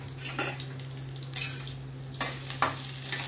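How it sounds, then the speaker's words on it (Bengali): Pointed gourd (potol) frying in oil: a soft sizzle beneath a low steady hum, broken by a few sharp bursts as the pieces are turned or stirred, close and fairly quiet. "পটলগুলোকে আমি ভেজে নিচ্ছি আগে"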